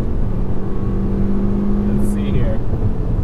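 Toyota C-HR with a CVT driven on a track, engine holding a steady high drone near its 6,200 RPM redline, loud and close throughout.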